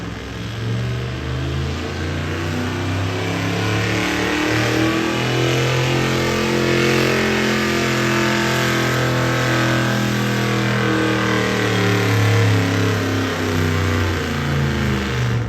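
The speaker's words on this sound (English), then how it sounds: "The truck out of Marcellus, the F-350 Ford, 1987 vintage." A 1987 Ford F-350 truck engine roars loud and steady at a county fair truck pull, revving hard and climbing in pitch as it strains against the sled for the whole stretch.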